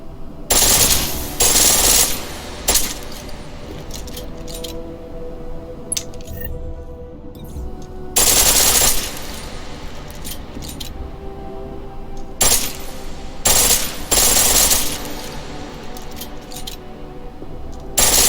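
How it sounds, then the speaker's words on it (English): Pistol fired in full-auto mode in Deus Ex: Mankind Divided, several loud, sharp bursts of rapid shots separated by quieter stretches of room tone and faint game ambience. "The pistol in full auto will take down targets fast, but it'll burn through your ammo"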